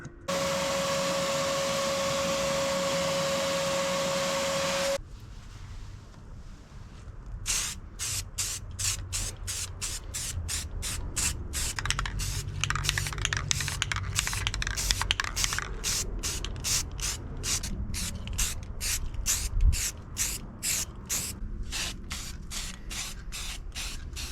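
Paint sprayed in a first coat onto a router-carved wooden cat clock, heard as a long run of rapid, evenly spaced bursts from a nearby sprayer. A steady hissing hum comes before the bursts.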